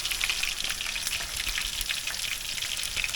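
Walleye-taco tortilla shells toasting in a hot pan at a wilderness camp in northern Canada, a steady close crackling sizzle with light popping throughout, no talking.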